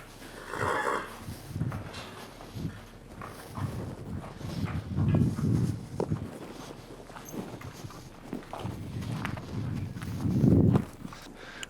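Horse walking forward on a lead rope during groundwork training, its hooves making soft, irregular clip-clop steps on the ground, with rustling and quiet handling noises in between.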